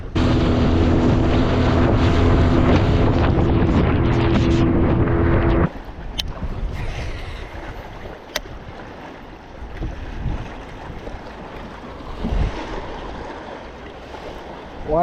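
Strong wind roars across open water and buffets the microphone of a fishing boat near Fort Worth. A loud, rough gust fills the first few seconds, then drops to lighter, uneven gusting with occasional bumps.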